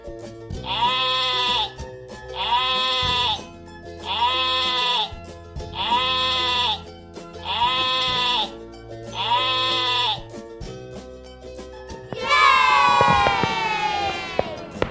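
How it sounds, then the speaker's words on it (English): A sheep bleats six times in evenly spaced, drawn-out cries, loud and close, followed by a burst of more ragged, overlapping bleating at the end. "sheep माने भेड़"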